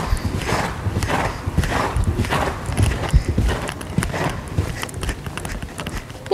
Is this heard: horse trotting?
yes